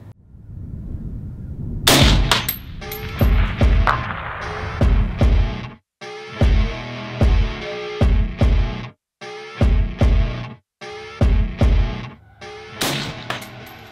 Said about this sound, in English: we're going to shoot water jugs at 300